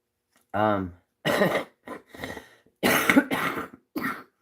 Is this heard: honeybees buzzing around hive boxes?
no